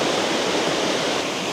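Tuklas Waterfalls pouring in a steady, dense broadband roar, close and loud, constant throughout with no voices.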